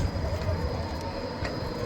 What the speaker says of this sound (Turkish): Hadi tramvay geç bakalım.